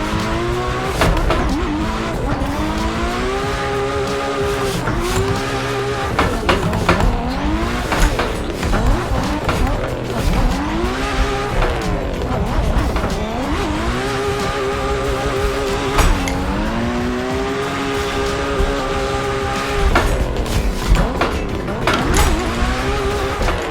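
A James Deane 2JZ-powered S14 drifting in a sim racing game, its engine revving up and down in repeated rising and falling sweeps with tire squeal, loud and continuous throughout.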